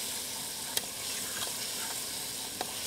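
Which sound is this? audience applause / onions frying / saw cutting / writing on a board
onions frying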